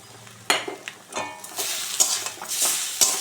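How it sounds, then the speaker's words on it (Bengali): Okra and potato being stirred in a pan with poppy seed and green chilli paste, a spatula scraping and clinking in quick uneven strokes over a steady close sizzle. "এটা দিয়ে একটু নেড়ে চেড়ে দিয়ে জল দিয়ে দেব"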